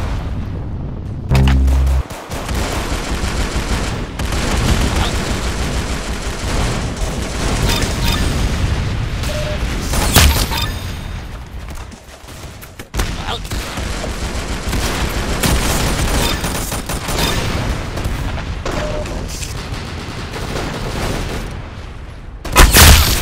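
First-person shooter gameplay with dense, sustained gunfire: rapid bursts and booming shots run almost continuously, loud and close, broken by a brief lull midway.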